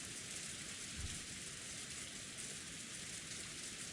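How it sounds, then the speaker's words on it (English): Steady falling rain in the visual novel Umineko When They Cry, a soft, even hiss of rainfall with a faint low rumble, heard alone with no talk. "The dark rose garden lay there without any sound but that of the falling rain."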